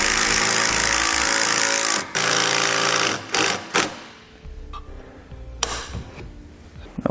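Power tool driving self-tapping screws into a towed vehicle's base plate, whirring loudly and steadily for about two seconds, then in a few short bursts with pauses.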